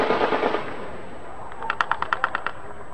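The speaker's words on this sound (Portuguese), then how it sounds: "Na imagem é possível ouvir o som do baile funk, que se confunde com os tiros." A rapid burst of roughly eight sharp gunshots from a nighttime shootout in the Fonseca neighborhood of Niterói, following a stretch of thumping funk party music, distant but distinct.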